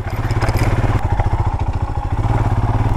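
A motorcycle on a trail in Goa putters at low revs with a rapid, even thumping engine pulse and some clatter, close and steady for three seconds.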